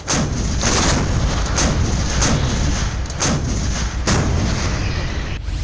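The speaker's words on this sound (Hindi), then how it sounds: "तोपों का ये डबल धमाका" Indian Army K9 Vajra and M777 howitzers boom repeatedly, roughly once a second, their blasts overlapping into a continuous rolling roar of gunfire.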